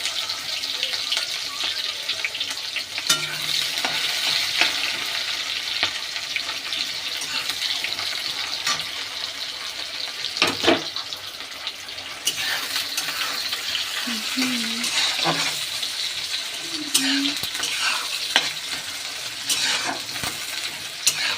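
Chopped onion frying and being stirred in a pan, a steady sizzle throughout with scraping stirs and occasional spoon knocks against the pan, close and continuous.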